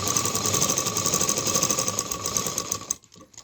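A sewing machine runs fast and steadily while stitching fabric for a saree-style gown, a close, rapid mechanical chatter that stops abruptly near the end.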